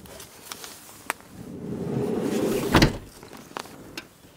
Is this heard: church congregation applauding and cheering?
no